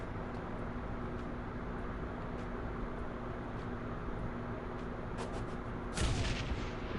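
Grenade explosion in the game Shadowrun Hong Kong, a sharp burst with a rumbling tail near the end, following a constant low rumble of background combat noise.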